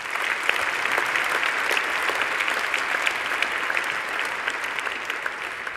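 A graduation ceremony crowd for engineering graduates bursts into sustained, even applause, a dense wash of clapping from a large audience lasting throughout without a break.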